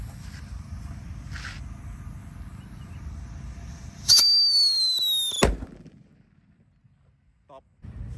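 A Blackbuster paper firecracker set off for Eid al-Adha 2025 gives a loud whistling screech, then a sharp blast that cuts out into quiet with a faint pop near the end.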